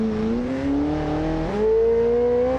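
In BeamNG.drive, a Ferrari engine rises steadily in pitch as it accelerates, shifts with a brief jump midway, then climbs again, sustained and loud with no speech over it.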